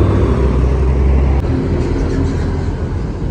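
A bus rumbles past on the road outside Jati Kudus terminal, a loud, steady low engine drone and roadway noise that holds for several seconds, with no voices.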